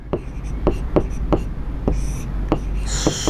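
Chalk or marker taps and scratches on a classroom board during a maths lesson, a string of sharp strokes and ticks roughly every half second, close and fairly loud, with faint breathy voice in the background.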